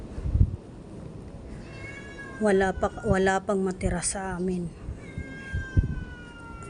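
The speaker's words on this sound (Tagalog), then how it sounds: "Kawawa naman ang aking pusa. Nandito sa labas, oh." A pet cat meows repeatedly outside, several drawn-out calls in a row close by, with a person talking nearby before and between them.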